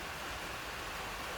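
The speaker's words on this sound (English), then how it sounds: "Sorry about the noise, the rain's settled in for the day again" Steady, dense rain hissing without a break, an even wash of noise with no voices or other distinct sounds.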